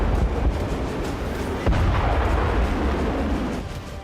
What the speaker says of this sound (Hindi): एक के बाद एक 20 परमाणु बम फटे।